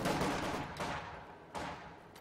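Bursts from an MG42 machine gun in Company of Heroes 2, three rough, loud volleys in quick succession, each swelling then tailing off, with no talk over them.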